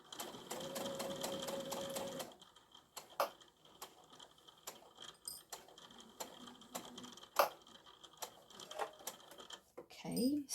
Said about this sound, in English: I'm on the strap, so I'm just gonna sew